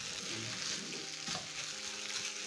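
Rice stir fry with bean stew and spices cooking in a pan, giving a steady, close hiss and sizzle throughout with faint stirring underneath and no talking.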